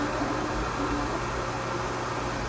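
A SculpFun iCube 10W laser engraver works on quarter-inch solid elm, giving a steady whirring hum of fan and air-assist hiss, continuous and even at moderate level with no voices.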